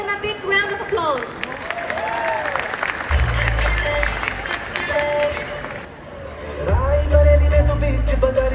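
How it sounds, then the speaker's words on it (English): Audience applause for a dance group about to perform a Bollywood number at a Diwali mela in an indoor arena, a steady crowd wash running under announcer talk, with music thumping in partway through. "So please give them a big round of applause."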